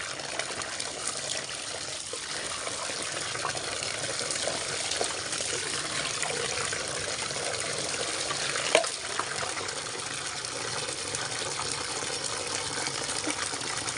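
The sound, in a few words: water poured over head while bathing on rooftop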